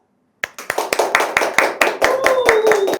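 A team breaks into a burst of steady, rhythmic hand clapping to welcome a guest indoors, loud and close, starting abruptly, with a voice rising briefly over the claps near the end.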